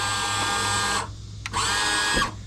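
A Mercury 4-stroke Pro XS outboard motor's power trim runs as the engine is trimmed down, a steady electric motor whine that stops briefly, gives a short blip, then runs again for about a second, close and loud.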